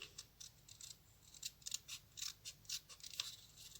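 Scissors snipping through paper in a run of short, close cuts, each a crisp crunch, coming in an uneven rhythm with brief pauses as the paper is turned, with no voices.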